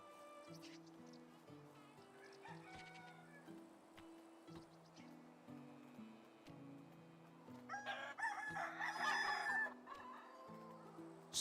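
Chickens in the medieval farming game Medieval Dynasty cluck and crow in a steady barnyard chorus over game music, with a louder burst of crowing near the end.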